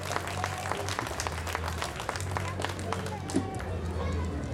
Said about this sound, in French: Je vous demande d'applaudir Morgane qui vient d'arriver avec sa harpe celtique